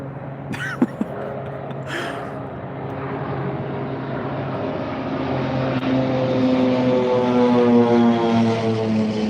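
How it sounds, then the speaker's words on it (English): A propeller airplane about to land drones overhead, its engine hum steadily growing louder and closer as it approaches, after two sharp brief noises near the start. "Plane is right about to land."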